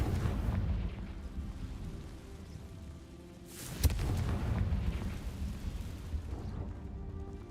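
A Confringo fire-spell explosion in the Hogwarts Legacy video game: a deep, steady rumble builds into a single sharp, loud blast near the middle, followed by a sustained booming roar with no voices.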